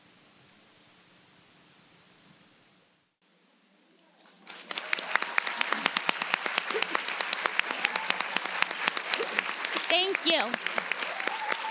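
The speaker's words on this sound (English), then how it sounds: "round of applause?" A room of people at an evening event applauds to honor veterans standing, dense, bright clapping swelling in after a brief quiet and continuing strongly, with a short spoken thanks.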